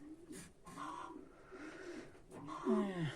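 Chinese gull fancy pigeons coo in a low, rolling burst near the end, preceded by softer murmuring coos and rustling from the same birds close by.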